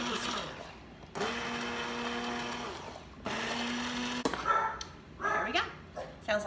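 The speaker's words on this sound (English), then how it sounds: "There, so we've got the immersion blender done." An immersion blender whirs in bursts through a pot of Mexican corn chowder, its motor humming steadily before cutting off, with a dog barking and a person talking at intervals.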